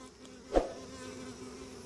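Honey bees buzz faintly around a new foundation sheet wired onto a hive frame where they build comb, a low steady hum with one brief louder bee passing close by.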